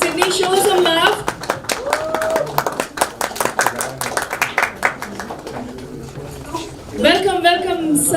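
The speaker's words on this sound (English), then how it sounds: "You can still keep clapping." An audience at a press conference claps steadily in a dense burst of applause, with a loud voice calling out over it and cheers rising near the end.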